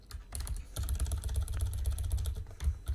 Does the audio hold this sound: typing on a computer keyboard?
yes